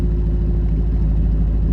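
A 2021 Toyota Tundra with a straight pipe exhaust rumbles loud and close as it backs up, a deep, steady, throaty drone with no breaks and no voices.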